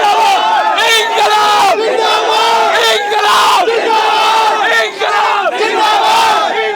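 A large crowd of protesting students shouts and chants together at a rally at Jantar Mantar, loud, dense and continuous, with rhythmic surges of voices throughout.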